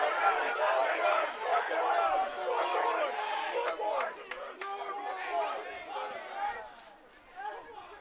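Restless murmur and scattered shouts from spectators at a men's university rugby match between Sherbrooke and U-Ottawa after a penalty call, a moderate-distance crowd reaction with mixed voices rising and falling throughout.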